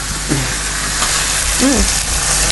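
Leg of lamb cooks in a pan with a steady, fairly loud sizzle and hiss, while a couple of brief vocal sounds rise briefly over it.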